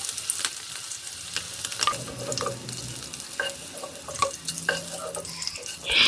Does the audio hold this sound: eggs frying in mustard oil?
yes